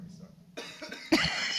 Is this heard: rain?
no